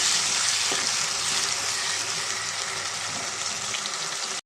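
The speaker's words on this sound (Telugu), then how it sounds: "ఇప్పుడు దీంట్లో మనం స్మాష్ చేసుకున్న టమాటా పేస్ట్ని కూడా దీంట్లో వేసుకుందామండి ఇది కూడా కొంచెం పచ్చివాసన పోయేదాకా మనం ఫ్రై చేసుకుందాం" Tomato paste frying in oil with dried prawns gives a steady, dense sizzle that holds at an even level for several seconds, close and alone without any talk, then stops abruptly at the end.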